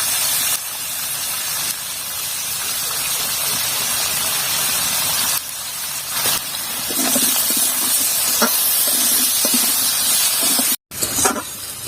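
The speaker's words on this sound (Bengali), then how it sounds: "এখানে আমার আলু আর ওলকপিটা সুন্দর করে ভাজা হয়ে গেছে" Potatoes and kohlrabi fry in a pan as a steady loud hissing sizzle, joined later by spoon clinks and scraping stirs, with a brief cut near the end.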